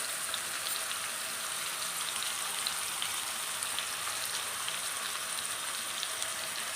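Curry leaves frying in hot oil with onions over a medium flame give a steady, dense sizzle and crackle that runs evenly throughout, close and alone with no talking.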